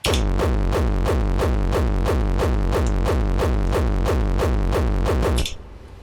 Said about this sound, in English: this is the sort of full Millennium kick